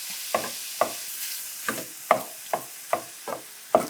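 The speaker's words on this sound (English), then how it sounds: "So we're just gonna brown the meat" Beef browning in a pan for bulgogi, with a steady sizzle broken by about nine sharp, evenly spaced scraping strokes as the meat is stirred. The sound is close and clear, with no voices.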